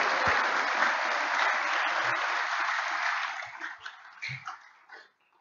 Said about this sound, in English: I think you should give yourself another round of applause.